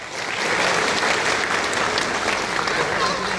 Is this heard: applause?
yes